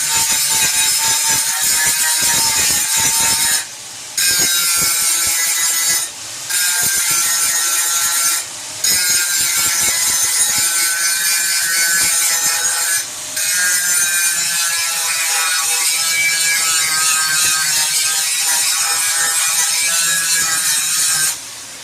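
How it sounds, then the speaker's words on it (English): A power grinder wears down a tack weld on a metal bracket in a loud, continuous, close-up whine that pauses briefly four times before carrying on. "metal where the tack weld was, and we'll grind that all down"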